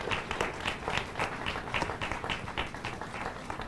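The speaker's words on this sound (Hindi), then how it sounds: "आप अगर मेरी बात से समर्थन करें तो तालियां रुकनी नहीं चाहिए" Sustained clapping from a large seated audience at a religious and cultural gathering in Ayodhya, a dense, even patter of many hands continuing at moderate distance without a break.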